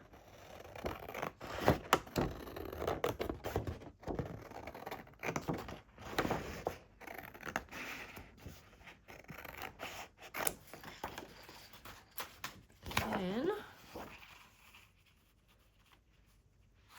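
Scissors cutting through lace appliques, with quiet repeated snips and rustling fabric handling close by, fairly soft throughout.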